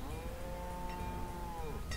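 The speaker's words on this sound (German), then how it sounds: "Und hier haben wir dann nur noch eine Kuh." A lone cow in the village-building game Banished gives a long, steady moo over a constant ambient hum, held for over a second before fading.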